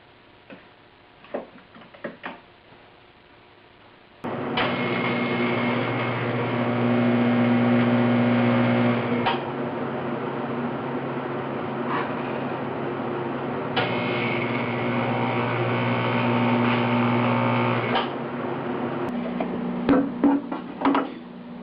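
Tack welding fixes fabricated end caps onto a coolant recovery tank for a 1976 Mazda RX-5 Cosmo. A few faint ticks come first, then a loud, steady electrical buzz runs in two long stretches with a brief break between them.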